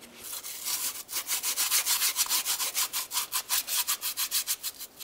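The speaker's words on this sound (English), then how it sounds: "continue on with a sanding block with some fine sandpaper and sand down the area of the engine" Fine sandpaper on a sanding block rubs back and forth across the engine surface where a new exhaust manifold and catalytic converter assembly will sit on a 2009-2019 Ford Flex, a steady rhythm of about twenty close, raspy strokes.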